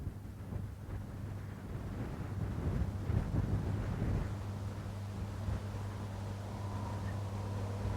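Steady wind blows outdoors, a broad low rumble and buffeting on the microphone that swells in the middle and then settles, with a faint steady low hum underneath and no talking.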